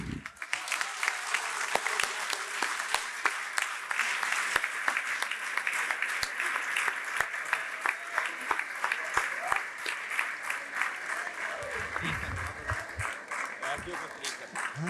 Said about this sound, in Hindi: हम अपनी अपनी नशिस्तों से उठ खड़े हों और भरपूर तालियों में इस्तकबाल करें जनाब सदर महफिल शाहिद ज़की